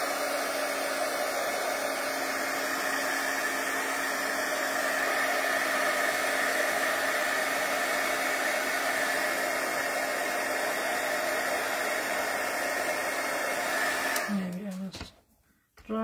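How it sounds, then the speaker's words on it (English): A heat tool blows a steady, loud, hissing roar while drying wet paint on a vintage journaling craft page, running continuously for about fourteen seconds before switching off and winding down. "So I'm going to use my heat tool."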